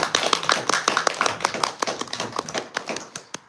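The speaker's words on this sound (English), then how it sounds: "Then why don't you clap?" A small audience at a spiritual talk claps after a sung piece. The sharp, uneven hand claps are fairly close and irregular, and they slowly thin out.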